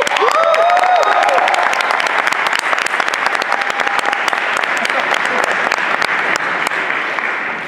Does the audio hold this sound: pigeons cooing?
no